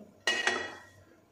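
Roasted dried red chillies for homemade garam masala are dropped into a metal vessel with one sudden rattling clatter, then a short jingle that fades into quiet.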